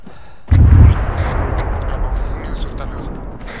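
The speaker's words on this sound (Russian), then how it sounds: "Это танк работает, кстати" A tank's main gun fires in the military game ArmA 3, one heavy, deep boom after a quiet moment, followed by a long rumbling tail with scattered distant crackles of battle.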